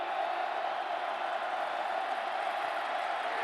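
A large stadium crowd roars in a continuous, dense wash of noise at a 2007 Oklahoma vs Texas Tech college football game, steady and loud throughout with no distinct pauses.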